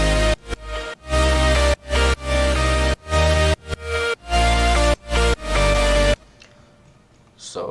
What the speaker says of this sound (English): all of the synths together, they all sound like this.